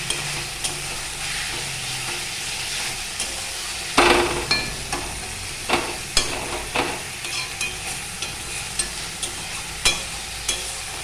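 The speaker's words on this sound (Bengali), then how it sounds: "এবার আমি মাছগুলো দিয়ে দেবো" Fish pieces go into a pan of simmering masala with a sudden clattering splash, followed by a strong sizzle and repeated close stirring scrapes and knocks at an uneven rhythm, with no voices.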